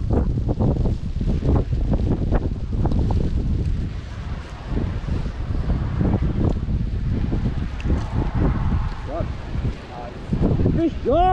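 Strong gusting wind buffets the microphone on a coastal cliff by a lighthouse during sea fishing, a constant loud rumble with faint voices now and then.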